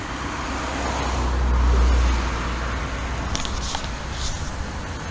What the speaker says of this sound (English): There are a lot of cars around here tonight.